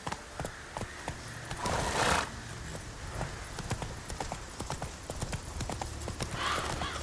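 Horse hooves clip-clopping at a steady galloping rhythm as Roach runs in The Witcher 3, with a brief louder burst of rushing noise partway through and a faint whinny-like tone near the end.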